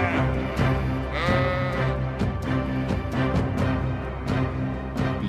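A flock of sheep bleating loudly and continuously, several overlapping calls layered close together, with no voices over them.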